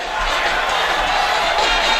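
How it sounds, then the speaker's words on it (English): La Salle College High School football crowd erupting after a fumble recovery against Malvern Prep, a loud, sustained roar of cheering and shouting filling a stadium throughout. "that sends the LaSalle crowd into a frenzy"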